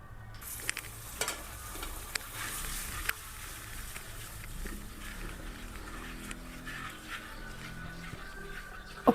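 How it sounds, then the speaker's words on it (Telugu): Hard-boiled eggs sizzle and fry in a pan for a Telugu egg curry, with occasional clinks and scrapes of stirring over a steady, moderately loud crackle and no talking. "ఉడికించుకున్న ఎగ్స్ని ఇందులో వేసి ఫ్రై చేసుకున్నాం."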